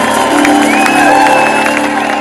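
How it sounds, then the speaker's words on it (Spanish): Audience at a salsa concert, Salsa y Sazón 2019, breaking into loud, sustained cheering, whoops and applause after a piano passage, a dense continuous crowd roar filling the whole moment. "aplauso"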